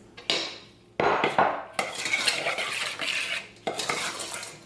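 A spoon stirs marshmallows into a thick jellied salad mixture in a bowl, giving close, loud scraping and clinking strokes in bursts with brief pauses between them.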